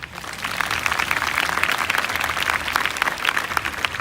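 An audience at a ceremony for national team athletes applauds steadily, a dense, continuous wash of many hands clapping at close range with no pauses.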